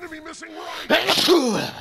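A single sharp sneeze bursts out close by during a Zeus mid game, following a short stretch of speech, with game sounds faintly in the background.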